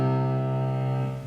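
Sustained piano chord of three notes struck together from the Shin Gojira theme, ringing steadily and loud with rich harmonics for just over a second.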